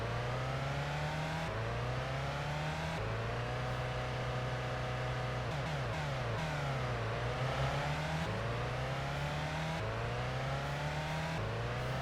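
A racing car engine in the game Ultimate Racing 2D 2 drones on continuously, steady and loud, its pitch stepping up through repeated gear changes with one brief dip and recovery, and no talking over it.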